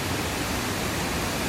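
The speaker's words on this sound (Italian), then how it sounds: "Cerchiamo alle spalle la cascata Sospiro, che è fantastica" The Cascata Sospiro waterfall pours steadily, a dense, even roar of rushing water with no pauses and no voices.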